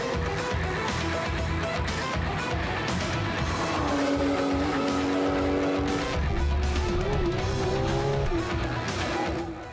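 Porsche GT3 racing a lap of the Nürburgring North Loop, its engine screaming loud and close with rising and falling pitch through gear changes, tyres squealing, over a steady roaring drone.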